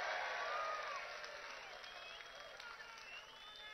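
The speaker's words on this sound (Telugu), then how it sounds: "గట్టిగా చప్పట్లు కొట్టి మీరందరూ" An audience applauds during an outdoor political speech in the sun: a sustained wash of many hands clapping with some crowd noise, fairly faint and distant, easing slightly after the first second.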